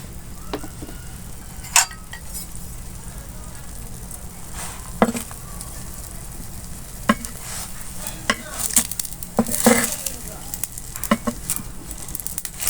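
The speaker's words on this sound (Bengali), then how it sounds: "আমি একটু অল্প করে তেল দিয়ে দিচ্ছি" A chicken roll fries in a little oil, a soft steady sizzle with occasional sharper spatters and utensil clicks scattered across the stretch, close by and with no talking.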